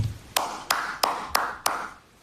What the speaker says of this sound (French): J'applaudis pour vous encore.